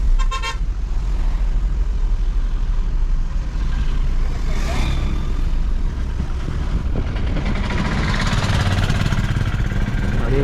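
A 4th-generation Honda VX car drives along and turns, a steady engine and road rumble heard from inside the cabin, loud and continuous, with a brief horn-like toot near the start.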